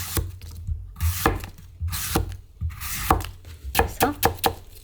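A knife cuts thin slices from an apple on a cutting board, landing as sharp irregular chops with pauses between them, close and clear, building to a quicker run of strokes near the end.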